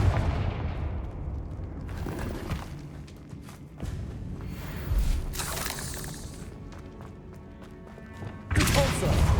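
Confringo fire-blast spells go off during combat in Hogwarts Legacy, with several loud explosive bursts and thuds spread unevenly among shuffling movement and game noise.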